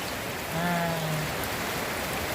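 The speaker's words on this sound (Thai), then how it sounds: "ฝนตก" Steady rain falls outdoors during a Thai ceremony for sending off a father-in-law, a dense even patter throughout with a brief faint whistle-like tone in the middle, no voices.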